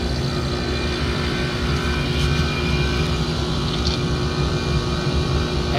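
Twin compressors on a Trane packaged rooftop air-conditioning unit run steadily after their contactors engage, giving a loud, continuous mechanical hum with a low-pitched drone throughout and no talking.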